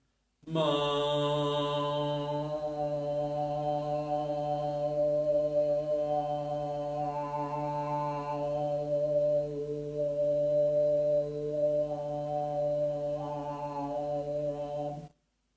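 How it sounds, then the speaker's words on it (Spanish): A single voice holds a steady sung note while strong whistling overtones ring out above it, shifting slowly over about fifteen seconds. "Si se refuerzan los armónicos, suena así."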